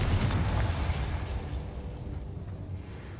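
A Confringo spell blast in the Hogwarts Legacy video game, a loud low booming explosion that rumbles at full strength for about a second, then settles into a dull sustained roar that fades slowly with no voices over it.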